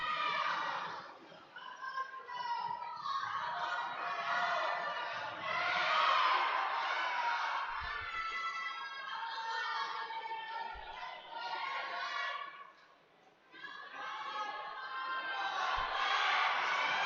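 Crowd cheering and whooping for a climber at a lead and top rope climbing competition's qualifiers, sustained shouts and yells from a nearby group with a few brief dips, no clear talk.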